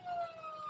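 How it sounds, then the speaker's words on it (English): A police siren wails in an old-time radio drama, a single sustained, slowly falling tone heard briefly at moderate distance with a faint background hum and no talk over it. "police siren"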